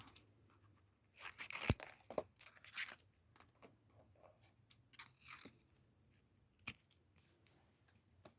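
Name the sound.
scissors trimming paper for a journal spread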